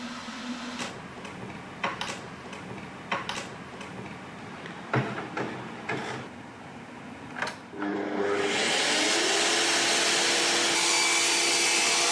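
A dust extraction system in a woodworking shed switches on after a series of clicks and knocks, ramping up to a loud, steady broadband roar and whine that continues to the end.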